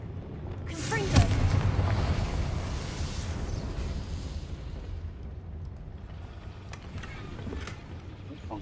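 A Confringo fire spell explodes in Hogwarts Legacy on PS5 with a deep rumbling blast that swells over a couple of seconds, then trails off into a lingering low roar and crackle of game effects.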